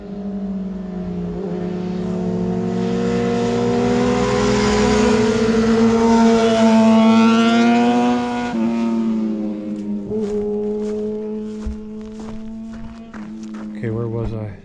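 Motorbikes pass on Glendora Canyon Road, their engines swelling loud as they approach and fading as they ride off, followed by a few fainter knocks and rustles.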